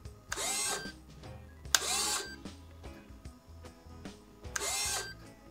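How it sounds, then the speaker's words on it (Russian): Three short whirring bursts from a servo on a homemade fishing bait boat's drop system, triggered by a radio toggle switch, each about a second long and evenly spaced, close and fairly quiet. "Теперь у нас работает наш сервопривод на вот этом тумблере."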